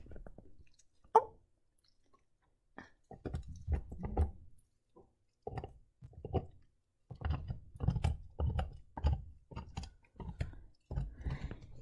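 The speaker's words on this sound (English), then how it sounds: "He's chewing on his bone." A dog chews on a bone up close, with irregular bursts of gnawing, crunching and wet smacking separated by brief pauses.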